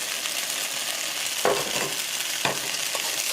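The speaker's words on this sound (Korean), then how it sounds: "웍을 이용해서 들깨를 볶아보겠습니다" Perilla seeds stir-fried in a wok over medium-low heat give a steady dry sizzle, with a couple of sharper crackling bursts as the seeds are moved around; no voices.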